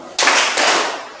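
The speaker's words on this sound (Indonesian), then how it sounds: "Oke, ini tepuk konsentrasi ya." A group claps out a tepuk konsentrasi concentration rhythm: two loud, close bursts of hand claps, the second following about half a second after the first, each sustained briefly before fading.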